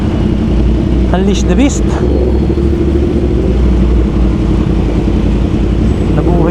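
A Yamaha R1 WGP motorcycle, its ECU remapped, holds a loud, deep engine rumble that stays steady throughout, with a voice speaking over it.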